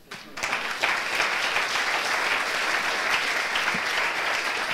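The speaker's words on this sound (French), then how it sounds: "Tu demandes au public de les applaudir." An audience at a public-health prevention round table applauds the participants, a dense, sustained wash of clapping that swells within the first second and holds at a steady, fairly loud level throughout.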